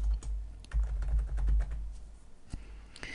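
Someone types on a computer keyboard at close range, a quick irregular run of key clicks with a few sharper taps, over a low background hum.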